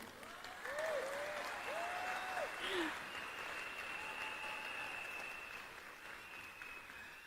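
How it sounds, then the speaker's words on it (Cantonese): Audience applause fills a leadership training meeting in Malaysia, a steady wash of clapping throughout, moderately loud, with a few faint whistle-like tones rising above it. "可唔可以俾個掌聲我啊？"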